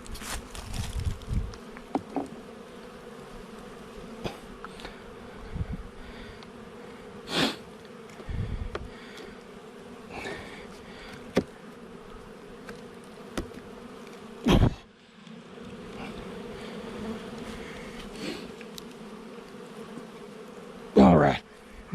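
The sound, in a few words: honeybees buzzing around a Long Langstroth hive entrance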